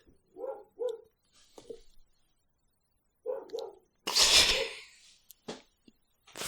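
A dog gives a few short, sharp barks, close and clear, separated by silences, followed by a louder rough burst and a couple of quick clicks.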